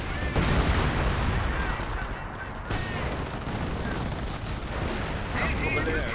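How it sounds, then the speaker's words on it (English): Sustained MP40 submachine gun fire from a World War II squad in the strategy game Company of Heroes, a dense continuous crackle of battle noise with speech running over it throughout. "MP4 is firing away"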